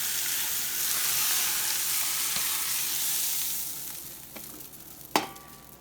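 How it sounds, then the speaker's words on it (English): Beef roast sears in a hot pan, giving a steady broad sizzle that fades toward the end, followed by a sharp clank of the pan or a utensil. "So that's a pretty good sear"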